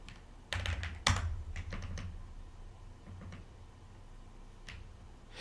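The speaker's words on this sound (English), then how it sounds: "Can't really see what keys I'm pressing on my keyboard." Quick clicks of typing on a computer keyboard during a Minecraft session, a dense burst of keystrokes followed by sparser, softer taps, heard close up with no talking.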